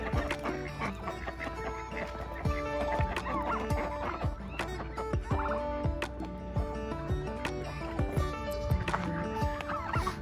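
A mallard duck calls amid a busy chorus of other fowl, including turkey-like gobbling, with overlapping squawks and calls continuing steadily throughout.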